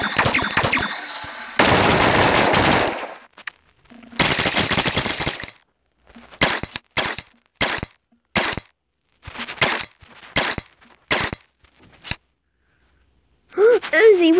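Uzi gunfire in the mobile video game Flip the Gun: loud, close bursts of rapid automatic fire. A long burst comes first, then a run of short separate bursts with brief silences between, and a voice is heard near the end.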